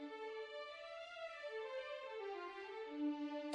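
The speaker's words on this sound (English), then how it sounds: "So the first thing I'm going to do this with is cinematic strings" Cinematic studio strings software instrument playing a soft sustained line with a slow sliding phrase, quiet and smooth, alone without voices.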